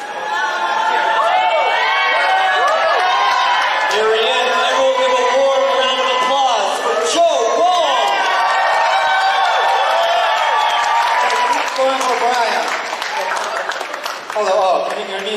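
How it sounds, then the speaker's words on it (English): Audience at a San Francisco political fundraiser clapping and cheering, a loud sustained crowd roar full of overlapping voices and whoops that tapers slightly near the end. "Everyone give a warm round of applause."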